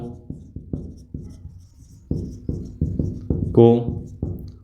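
Marker or chalk strokes on a board during a maths lesson on percentages come as a series of short, rhythmic scratching strokes, fairly close and clear, with a brief voiced sound near the end.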